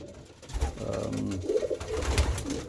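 Racing pigeons in a loft during breeding season coo in low, soft, rolling calls, several overlapping phrases close by.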